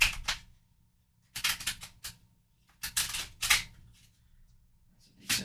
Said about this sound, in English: That's a decent shuffle.